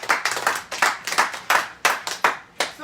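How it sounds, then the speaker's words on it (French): A church congregation claps together in a steady rhythmic beat during a sermon, close and loud, each sharp clap distinct at roughly even intervals with no voices over it. "Acclamons pour la parole de Dieu."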